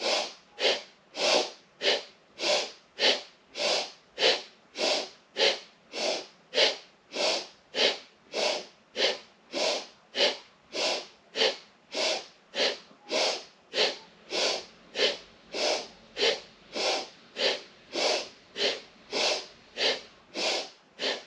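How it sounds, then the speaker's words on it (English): Kundalini breathing practice with powerful rhythmic sniffs in and out through the nose, about thirty sharp, evenly spaced bursts repeating steadily and close, with no other sound. "Powerful sniffs in and out through the nose."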